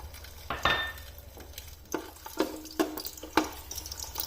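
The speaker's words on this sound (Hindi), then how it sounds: "और इन लहसुन के जवों को हल्का सा ब्राउन होने तक घी में फ्राई होने देना है।" Whole garlic cloves fry in hot desi ghee, a soft steady sizzle with stirring scrapes and a few sharp clinks of a spoon against the pan, close and fairly quiet.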